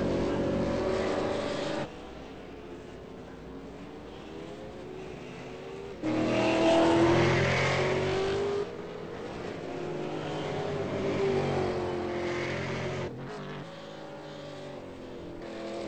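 A Ford Falcon V8 Supercar at Zandvoort qualifying, its engine note rising and falling in steady waves as the car passes and accelerates, broken by sudden shifts in level, with no voices over it.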